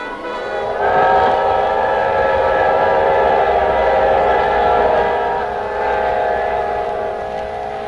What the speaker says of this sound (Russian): Из глубины страны в Ленинград шел первый поезд.